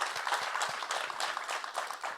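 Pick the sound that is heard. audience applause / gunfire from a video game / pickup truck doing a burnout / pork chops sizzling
audience applause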